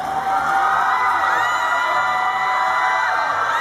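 A large audience cheers and whoops at the Komchadluek Awards 8 ceremony, a loud, continuous wall of crowd noise with shrill whistle-like shouts rising above it throughout.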